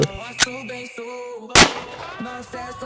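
Two sharp, loud Desert Eagle pistol gunshots a second apart, fired into a stack of plates close by, over a background of music.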